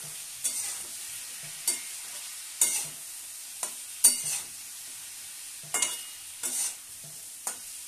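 Vegetables and grated ginger fry for khichuri while a spatula stirs them, giving about ten sharp scrapes and taps at an uneven pace over a soft, continuous sizzle, with no voices.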